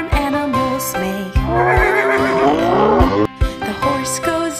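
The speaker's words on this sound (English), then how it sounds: "The horse goes neigh, neigh, neigh, neigh." A farm horse neighs loudly and close up, a long shaky whinny that rises and trembles before falling away, framed by short snorts and clipped sounds at start and end.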